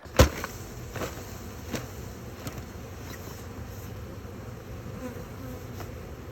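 Honey bees from a five-frame nuc hive buzz in a steady, moderately loud drone, joined by a sharp knock at the start and a few faint taps.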